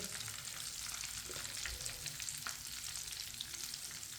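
Shami kababs fry in a pan of oil, giving a steady, quiet crackling sizzle with a few soft clicks and bumps, with no talk throughout.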